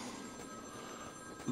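A telephone rings inside Batman: Arkham City, a faint, muffled ring under steady game ambience, as if heard through a wall.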